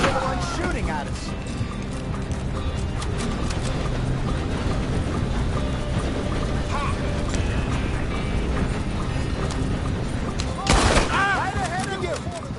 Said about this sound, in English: Arthur's the one shooting at us.